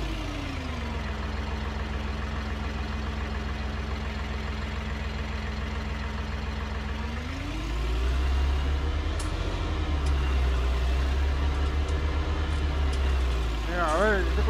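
A tractor engine in Farming Simulator 19, a continuous low idling drone that deepens and grows louder partway through as the machine changes, with someone talking over it.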